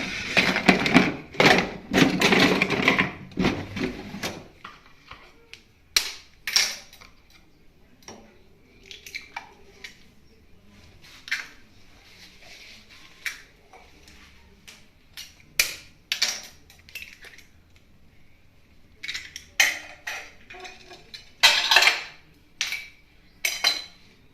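Eggs cracked with a knife over a bowl of mandazi mixture, a series of close sharp taps and clinks with shell knocks, spaced irregularly over quiet kitchen background.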